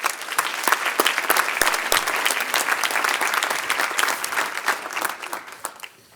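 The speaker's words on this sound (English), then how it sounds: "let's just give them all a round of applause for their efforts" An audience claps enthusiastically, a dense, steady patter of many hands that holds for several seconds before thinning out at the end.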